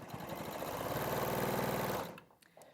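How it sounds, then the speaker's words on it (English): A domestic sewing machine runs at a steady fast whir for about two seconds while stitching two fabric pieces together, then stops, close and clear with no talking. "I'm just going to sew these two on"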